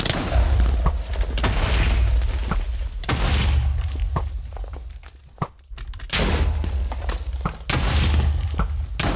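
Bombs exploding in Minecraft make a run of loud, heavy booms and rumbling blasts, overlapping almost continuously with brief gaps and one short dip partway through.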